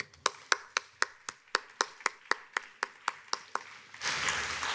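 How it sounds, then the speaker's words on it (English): Audience applause for Minister Qualtrough at a plenary session on accessibility regulation: about sixteen sharp, evenly spaced claps in a steady beat, then a brief wash of denser clapping at the end. "why don't we all have another round of applause for Minister Qualtrough"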